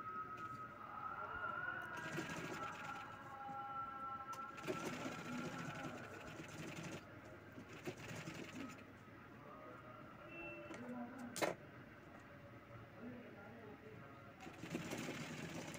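A sewing machine stitches a paithani jacket for a young boy, running in steady whirring bursts with short stops and restarts, close and moderately loud.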